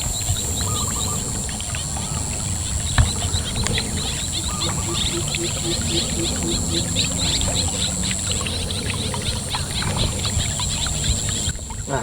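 Willow-leaf spinner blades of a Twin Ripper snakehead fishing lure churn through water, giving a steady splashy burble with faint ticking that runs throughout at close range, and no voices are heard.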